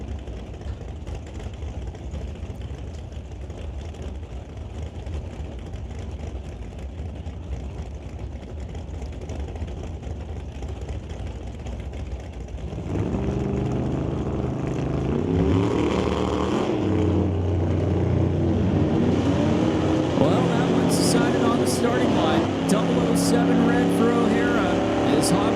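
Drag race cars launching at an NHRA Northwest National Open Series event, including a '55 shoebox Chevy, first a steady engine drone and then a loud roar of engines accelerating away, with an announcer talking over it.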